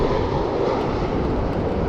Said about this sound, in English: Look at the airplane up there.